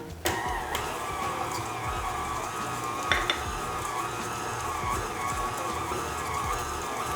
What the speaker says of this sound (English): So we'll give it one more go in the mixer, again on a low setting